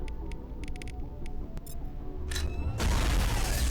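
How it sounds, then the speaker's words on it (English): A big explosion erupts in a Mass Effect Legendary Edition firefight, a sudden broad roaring blast that follows a few faint clicks and sharp game effects and keeps rumbling to the end. "Oh, that was a big explosion."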